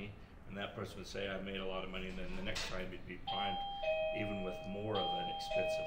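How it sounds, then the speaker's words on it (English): A two-tone doorbell chimes partway through, its sustained ringing tones sounding clearly beneath a man's ongoing speech indoors. "Sorry for the doorbell."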